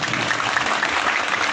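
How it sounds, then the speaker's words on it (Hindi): An audience at a religious discourse claps loudly and continuously for a revered Maharaj, a dense, close burst of applause with no talk. "तालियां बजाएं।"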